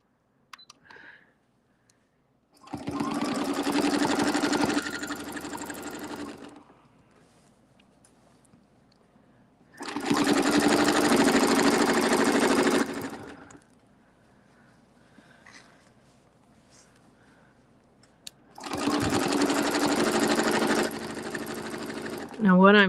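A sewing machine stitching circles runs in three bursts of a few seconds each, a fast, steady mechanical whir with quiet gaps between them and faint handling noises in the pauses.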